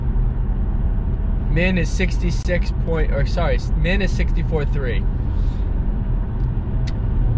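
A car with a supercharged engine and an open air intake cruises at 60 mph, producing a constant low roar throughout while someone talks over it.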